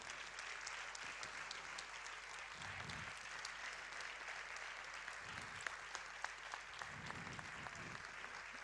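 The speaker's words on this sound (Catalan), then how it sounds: "Fort l'aplaudiment per tots ells." An audience gives sustained applause for participating performers at the closing ceremony of Tortosa's Catalan Capital of Culture year: a dense, even patter of clapping that continues the whole time, fairly soft and distant.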